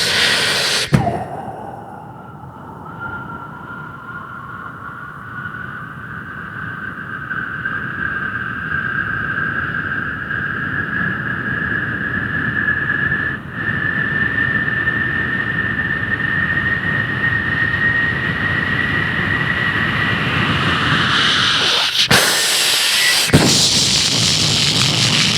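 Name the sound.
comedian imitating a flying airplane with his voice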